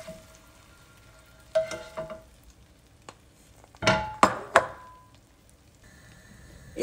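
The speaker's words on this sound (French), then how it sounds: "je vais les laisser les oignons frire" Onions fry in a pan for a pea and carrot tajine, a faint sizzle under a few sharp clatters of utensil against the pan, close and brief.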